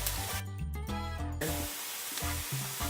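Peppers and onions dropped onto a hot grill for fajitas sizzle and hiss steadily, close up, with a few clinks and scrapes along with the sizzle.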